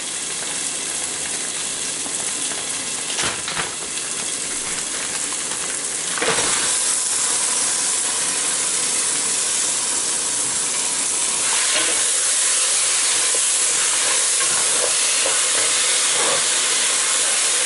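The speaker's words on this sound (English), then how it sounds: "now marinated mutton goes into it" Marinated mutton goes into a hot cooking pot for biryani, raising a loud, dense, continuous sizzle and steamy hiss that holds for the whole stretch, broken by a few sharper bursts.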